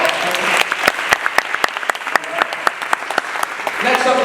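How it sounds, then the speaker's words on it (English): Audience at a live speaking event in Washington, DC claps steadily, with sharp distinct hand claps standing out over a fuller crowd of applause and faint voices mixed in. "Please give our brother another round of applause"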